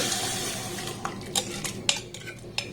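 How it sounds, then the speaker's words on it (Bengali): Raw mango mixture for pickle going into a hot kadai on a gas flame, with metallic clinks and scraping of a spoon against the pan and a soft wet sizzle underneath, several sharp taps spaced out over a quiet background. "এবার এখানে আমের এই মিশ্রণটাকে আমি দিয়ে দেব"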